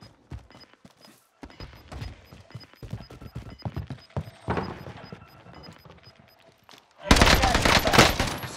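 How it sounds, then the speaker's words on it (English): Gunfire in a Call of Duty match, scattered sharp shots and rapid bursts, some distant, ending in a loud dense volley, with people talking over it. "I'm getting shot."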